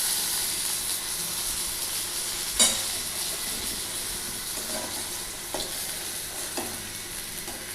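Rohu fish pieces sizzle in hot oil as they are stirred and lifted out, a constant frying hiss with a sharp clink and a few light spatula scrapes.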